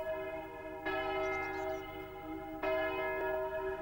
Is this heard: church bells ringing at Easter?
yes